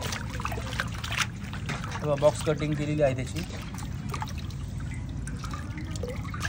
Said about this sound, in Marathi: धुवून घेऊ त्याला पहिले आपण स्वच्छ पाण्याने